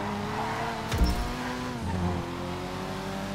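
A racing car in GTA V Online revs and drives hard, then takes a sharp crashing impact with a brief burst of noise before the engine drone carries on, with light skidding in the background.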